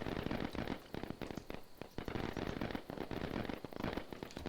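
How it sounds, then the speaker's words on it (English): Dense, sustained crackling and popping, like a burst of firecrackers, from a firework spell cast in the Evil Islands multiplayer game, loud and continuous for a few seconds. "We're gonna use the firework spell."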